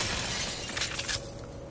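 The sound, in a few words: glass shattering explosion in Splinter Cell Conviction video game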